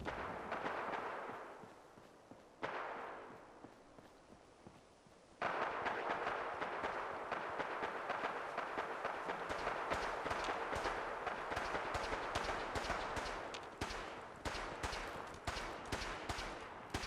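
Gunfire in Fallout 4 rings out as a dense run of sharp shots and bursts, near and loud, with several clustered volleys continuing steadily after a quieter opening stretch.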